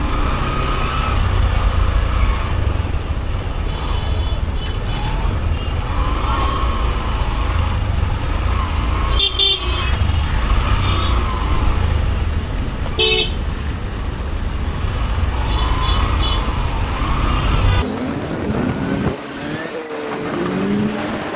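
Motorbikes and cars crawl through signal traffic in Ghatkopar, Mumbai, during the monsoon, with engines droning close by throughout and short horn toots breaking in now and then; the din drops off near the end.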